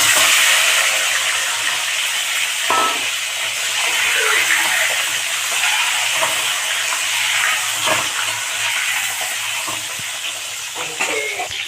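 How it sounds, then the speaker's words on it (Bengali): Egg frying in a pan while making biryani, a steady close sizzle and hiss running throughout with occasional faint clinks and stirring sounds, no talking. "এবার আমি ডিমটাকে ভেজে নেব।"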